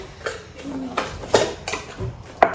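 Drinking glasses from a set of six clink lightly against each other and other dishes as they are handled in a kitchen, giving several separate, crisp taps spread irregularly over a few seconds.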